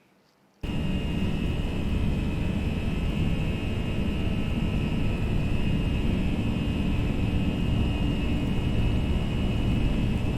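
Simulated Airbus A320 jet engines on the takeoff roll in a flight simulator cut in suddenly after a moment of near silence and hold a loud, steady broadband roar with a faint high whine, with no voices.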